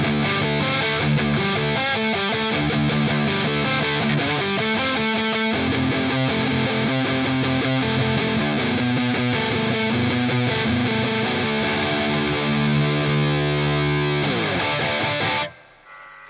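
Electric guitar played through a Jam Pedals Rattler mk.2 distortion pedal, a sustained heavily distorted riff of chords and notes running loud and steady for about fifteen seconds before cutting off abruptly.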